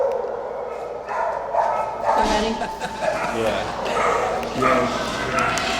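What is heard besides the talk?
dogs barking at an animal shelter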